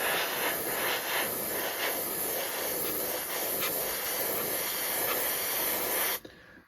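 An airbrush sprays thinned 50-50 AK green base coat paint over a 1/72 scale Azur Fairey Battle model aircraft, producing a steady, close hiss for about six seconds before stopping abruptly.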